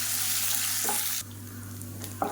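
Urad dal, dried red chillies and garlic fry in hot oil with a steady, dense sizzle that drops slightly partway through, and a small stirring clink near the end.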